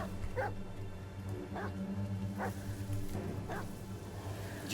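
A dog in the Blair Witch video game barks and yips in the woods, four or five short, evenly spaced barks of moderate loudness over a low, murky game ambience.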